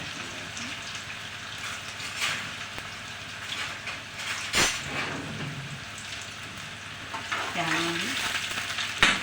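Chopped onion frying in a pan with green chilli added, a constant crackling sizzle broken by spoon scrapes and stirring knocks, close by, with a brief word spoken near the start.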